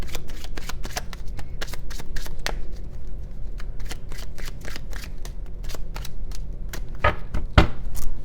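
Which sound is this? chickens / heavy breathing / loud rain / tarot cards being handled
tarot cards being handled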